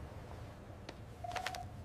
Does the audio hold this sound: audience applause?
no